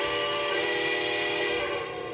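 A Lionel model train's steam whistle blows one steady, loud, continuous tone that lasts about two seconds and fades slightly at the end.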